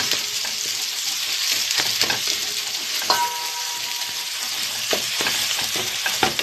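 Tomato paste fries in a pot while being stirred, a loud close sizzle broken by scraping strokes and occasional utensil knocks against the pot, with no speech.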